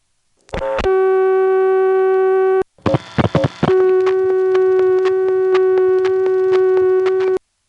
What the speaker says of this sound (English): Hahira has a typical North American dial tone